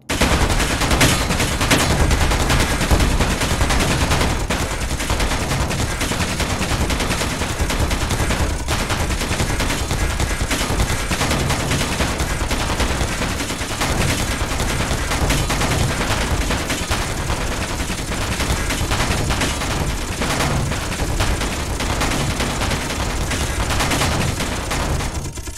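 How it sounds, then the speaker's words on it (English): Gatling guns fire continuously in the video game Space Engineers, a loud, dense, unbroken rattle of rapid shots lasting throughout. "All I have to do is jump into the cockpit, turn on the reactor, and fire until they both break."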